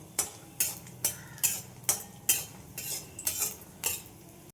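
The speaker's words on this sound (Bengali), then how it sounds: "শুকনো লঙ্কা আর বাদাম একসাথে ভেজে নেব" Dried red chillies and peanuts fry together in a pan, with a utensil clinking and scraping against the metal in a steady rhythm of about one stroke every half second over a faint, low sizzle.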